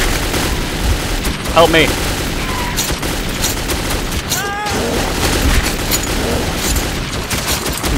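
Sustained gunfire in the video game Metro 2033, a dense, continuous rattle of shots mixed with booms, with a voice calling out over it.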